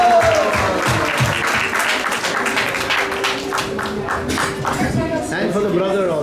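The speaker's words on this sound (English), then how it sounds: "Then we also have one round of applause for the teacher, Adya, who has worked tirelessly every day." An audience at a Janmashtami celebration in a temple hall applauds a teacher, with a dense burst of clapping that continues for several seconds and then thins, while voices talk over it.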